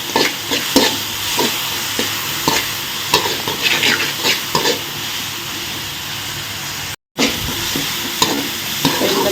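Garlic cloves frying in hot oil and being stirred for a chow chow curry, a loud steady sizzle with repeated scraping strokes of a spoon, cut by a brief dropout near the end.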